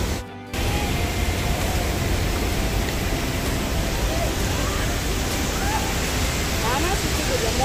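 Hogenakkal waterfall roaring with a loud, steady rush of falling water close by, after a brief dip at the very start, continuing unbroken throughout.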